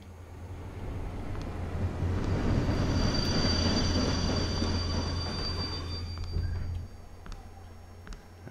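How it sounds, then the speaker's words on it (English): A train pulls into a station platform with a loud steady rumble of wheels and a thin high squeal along the rails. It builds, holds, then eases off as the train slows, heard alone without voices. "The next train at platform 2 is for University."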